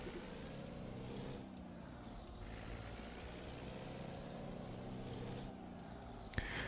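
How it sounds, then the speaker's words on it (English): In American Truck Simulator, a steady low truck engine drones on at moderate volume with faint high tones and a brief air-brake hiss near the end, with no talking. "Now you should be able to hear the truck"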